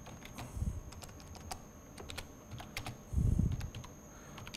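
Keys clatter on a computer keyboard as a line fit is typed, with bursts of close clicks and a couple of heavier thumps, no speech.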